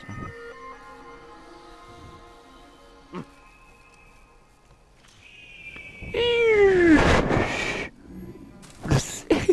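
A cat meows in the game Assassin's Creed, a loud drawn-out cry with a falling pitch after a quiet stretch, followed by short bursts of other sound.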